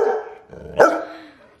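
A Bernese Mountain Dog gives a close, loud bark at the camera, then lets out a short whining yelp that trails off.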